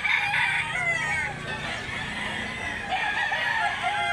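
A gamecock bullstag crows at a rooster market in Mantalungon, Barili, Cebu. The crowing is loud and drawn out, with other fowl and market bustle in the background.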